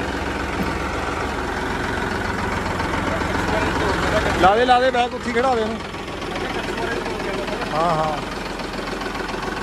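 Massey 9500 tractor engine running at idle, a steady mid-low chug throughout with a brief louder burst near the middle, while people talk over it close by.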